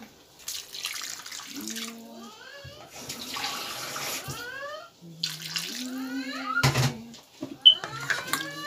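Curry broth from a shol fish and radish dish is poured over food in several short pours, with rising gurgling tones as the liquid fills the vessel at close range.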